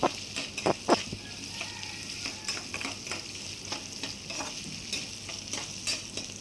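Shallots and whole peeled garlic sautéing in oil for a dried-fish curry, a bright steady sizzle with frequent scraping stir strokes and a few louder clanks of the spatula early on, no voices.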